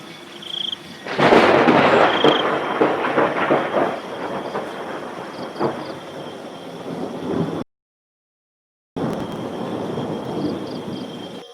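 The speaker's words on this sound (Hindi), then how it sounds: "आधी रात को बहुत तेज बारिश होती है।" Heavy midnight rain in a cartoon pours down as a dense, loud roar with rumbling thunder-like swells, cutting to silence briefly before the downpour resumes.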